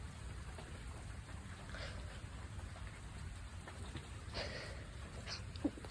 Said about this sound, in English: the rain is relaxing me